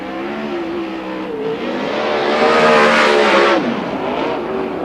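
A 410 sprint car screams around the USAC oval on a qualifying lap, its loud high-revving engine droning steadily and swelling as it passes closest before easing back, with no talk over it.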